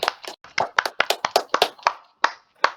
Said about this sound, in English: Clap it up for Chad here